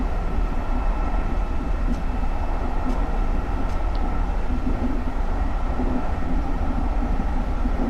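A GE Silverliner IV SEPTA commuter train on the Trenton Line runs in a train simulator, a steady rumbling roll with constant broadband rail noise and a few faint high clicks, loud and unbroken throughout.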